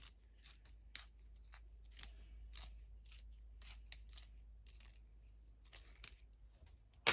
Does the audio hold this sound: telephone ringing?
no